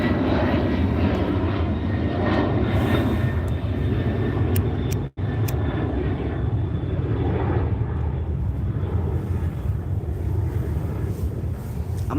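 Airplanes pass overhead, a continuous loud roaring engine drone with wind buffeting the microphone, steady for the whole stretch apart from one momentary dropout.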